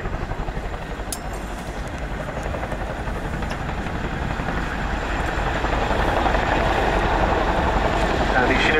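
Boeing Chinook twin-rotor helicopter flying a display at the RIAT 2009 airshow, its deep rotor thump and turbine roar loud and steady throughout, swelling slightly toward the end, with speech heard beneath it.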